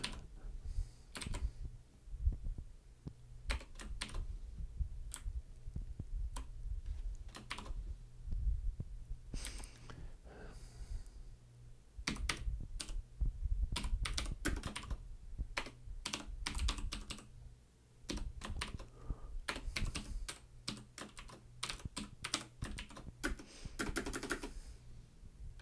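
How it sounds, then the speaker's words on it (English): Computer keyboard typing in irregular bursts of quick clicks with short pauses, moderately close, over a low steady hum; no one speaks. "I'm typing."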